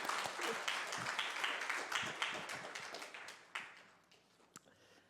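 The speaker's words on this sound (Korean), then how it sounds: "우리 한국에 잘 가시라 우리 박수로 하겠습니다" A church congregation claps together in a burst of applause that gradually thins out and fades, ending in a few scattered claps.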